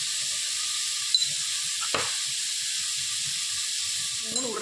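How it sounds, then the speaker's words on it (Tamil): Tomatoes and green chillies sautéing in a pan over softened onions for a brinjal potato masiyal, a steady faint sizzle with a few soft stirring scrapes and a brief clatter near the end. "தக்காளி போடணும் நல்லா வதக்கணும்"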